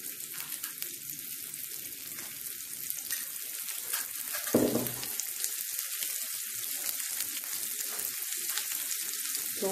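Mutton shaami kebabs fry in a little oil on a medium flame, a constant bright sizzle and crackle with a brief louder splutter midway.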